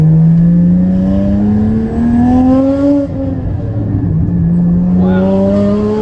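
A Porsche GT4 fitted with headers and a Fabspeed GT450 race package, tuned on E85, accelerates hard, its loud engine note climbing steadily through the gears with brief dips at each shift, close and continuous with no talk.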